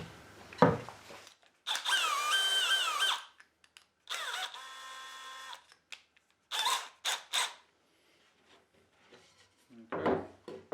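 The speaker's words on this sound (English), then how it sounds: "So I'm going to get a drill bit now, drill out this center punch that I just marked." Power drill boring out a center punch mark in a motorcycle workshop project, several loud whirring bursts of a few seconds each with pauses between, the motor pitch rising and falling, close by.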